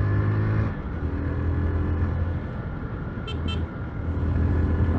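Steady engine rumble of a Honda CG Titan 150 motorcycle, with a quick double toot of its horn partway through.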